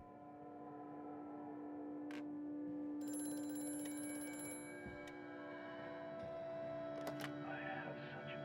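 An old telephone rings in the horror game Amnesia: A Machine for Pigs, a sustained tonal ring with metallic bell-like bursts over a low droning hum, fairly quiet and unaccompanied by talk.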